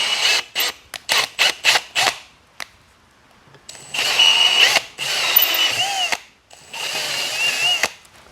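A power drill bores into an aftermarket MAXPEEDINGRODS K series throttle body, starting with several short clipped bursts and then three longer whirring runs, close and loud with gaps of silence between.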